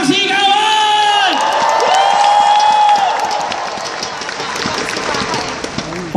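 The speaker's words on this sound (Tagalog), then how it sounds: "Lahat ng payaman, pumalakpak ng may kasawang sigawan!" An audience at a company event breaks into loud applause mixed with whoops and cheering, a dense wash of clapping that swells after a shouted voice at the start and fades slightly toward the end.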